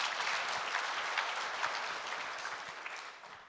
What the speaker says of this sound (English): I'll clap for that.